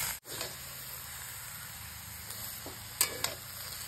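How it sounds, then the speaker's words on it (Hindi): Poi saag (Malabar spinach) fries and sizzles in a pan while being stirred, a steady close hiss broken by a few sharp spatula scrapes and taps near the end. "अब इसमें पोई साग डालेंगे। इसे अच्छे से मिलाएंगे।"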